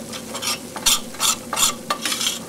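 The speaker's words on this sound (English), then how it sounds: "You just sort of brown this flour a little bit." Flour browns in a hot pan for country-style gravy, stirred briskly with a utensil in repeated scraping sweeps over a soft, steady sizzle, close and fairly loud.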